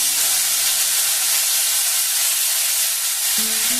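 Chopped onions dropped into hot mustard oil with bay leaves in a pan for a catla fish curry, giving a steady broad sizzle and hiss, close and fairly loud, with a brief louder crackle near the end.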